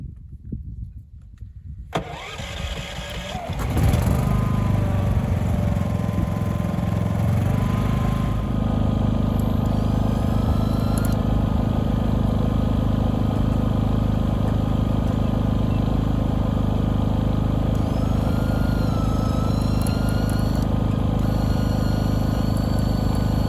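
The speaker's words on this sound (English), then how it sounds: "I need to fire up the generator and get her going here" A portable generator pulled into life for a trailer repair welding job, a brief rough cranking before the engine catches and settles into a loud, steady, unbroken drone that runs to the end.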